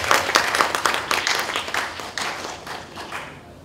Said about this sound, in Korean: 보내주신 분들께 큰 박수 부탁드리겠습니다.